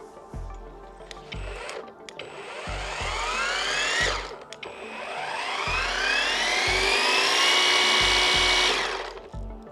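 A Procraft ATA-40 cordless battery string trimmer motor spins up smoothly and hums quietly and steadily nearby, its whine rising in pitch with each start over low thumping handling noises, with no talking.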